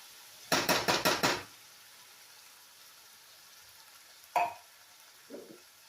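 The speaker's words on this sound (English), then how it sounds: "to our skillet, we're going to add 1 can of Rotel, or I have fire roasted diced tomatoes with green chilies" Canned fire-roasted diced tomatoes with green chilies go into a skillet for taco pasta: a quick burst of several scraping, splattering strokes, then a single later scrape and a faint soft thud.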